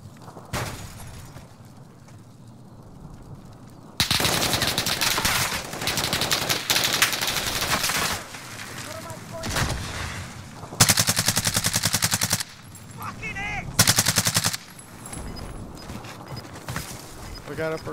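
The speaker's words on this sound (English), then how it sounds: "he was shooting at somebody back this way" Bursts of automatic gunfire in the Call of Duty Warzone video game, loud rapid volleys in several separate stretches with quieter gaps between, under occasional game sounds and voices.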